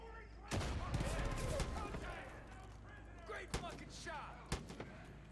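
Gunshots in the Far Cry 5 shooter game, a few sharp isolated reports spread through the clip, heard under ongoing talk by players.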